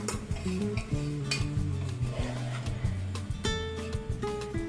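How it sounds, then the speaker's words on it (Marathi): Finely chopped leafy greens for a Konkani bhaji are sautéed and stirred in a pan, with soft clinks and scrapes of the spoon and a faint sizzle beneath steady background music. "पूर्ण भाजी चांगली परतून घ्यायची व्यवस्थितपणे"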